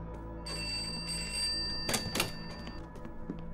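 A telephone rings in the horror game Pineview Drive, steady bell tones under a low ambient drone, with a couple of louder thumps near the middle and no voices.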